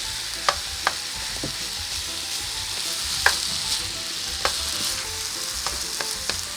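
Fried rice stir-fries in a hot pan with dark and light soy sauce, oyster sauce and wine. It gives a continuous close sizzle, punctuated by sharp scraping clicks of the utensil against the pan, with no talk.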